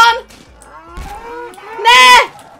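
Cows in the Roblox game The Butchery moo in long, low, drawn-out calls, loud and close, with a louder, brighter moo toward the end, interleaved with a person speaking.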